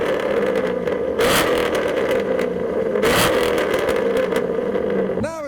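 A Vauxhall VXR8 with pink wheels revs at a modified car show, a loud, sustained engine roar with two surging rises that sits close and steady, with crowd noise and voices underneath.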